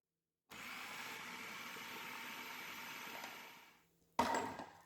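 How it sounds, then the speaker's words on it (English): A food processor blending fresh corn for tamales, starting suddenly and whirring steadily at a fairly low level for a few seconds, fading and stopping, then a brief louder burst as it starts again. "So now I'm just going to continue combining this in the food processor"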